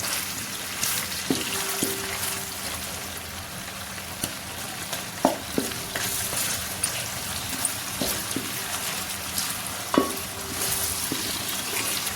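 Long-sliced onions fry in a pan for a biryani, a continuous close crackling sizzle broken by occasional clinks and scrapes of a stirring spoon.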